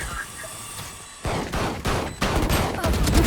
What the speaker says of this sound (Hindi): अरे यार शॉटगन।